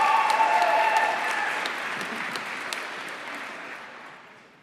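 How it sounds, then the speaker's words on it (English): An audience at a December college commencement applauds graduates of an Environmental Science program, a burst of crowd clapping that starts strong and slowly fades away over several seconds. "let's applaud the accomplishments of those graduating from the Environmental Science program"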